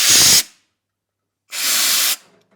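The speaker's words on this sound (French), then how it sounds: "il va falloir souffler dans la vis imbus noire qui est là et dans la fente qui est là pour enlever la poussière" Two short, loud bursts of blown air clear dust from the black hex screw and slot of a circular saw blade mount, separated by about a second of silence.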